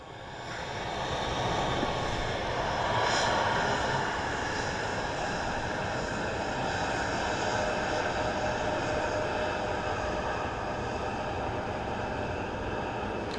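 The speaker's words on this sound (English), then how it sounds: "some of these aircraft seem to be touching down a lot further down the runway" An aircraft landing at Dublin Airport produces a steady, loud engine roar that builds slightly and then holds as a broad, continuous rumble and whine, heard from outdoors with no talking.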